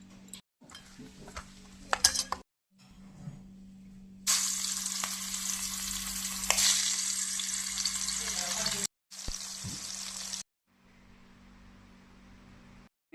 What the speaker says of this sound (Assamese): মাছটো ভাজি লোৱা হ'ল